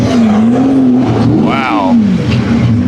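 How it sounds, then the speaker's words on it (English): A Lamborghini Murcielago supercar drives past close by, its engine droning, then briefly revving and rising in pitch, while people talk over it. "Here comes Ken's Murcielago."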